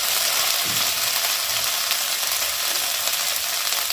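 Spice paste with ginger paste for a katla fish curry fries and is stirred in a pan, making a dense, continuous hissing sizzle, close and steady, with no voices.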